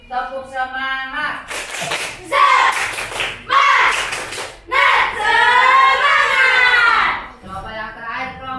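Sixth-grade pupils in a classroom chant and clap in a rhythmic group cheer, several loud bursts of synchronized clapping alternating with shouted children's voices, close and energetic.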